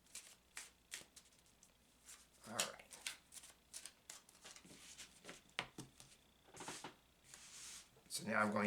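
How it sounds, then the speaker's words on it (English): Cards being shuffled in repeated quick riffles and soft flicks, close up and fairly quiet, with a sharper ruffling burst near the end. "I'm going to take a moment to shuffle the cards."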